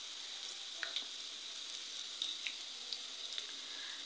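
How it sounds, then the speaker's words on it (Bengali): Onions fry quietly in a pan with a soft, continuous sizzle dotted with scattered little crackles and pops, heard alone without any voices. "দেখুন, পেঁয়াজটি ভাজা ভাজা হয়ে গেছে।"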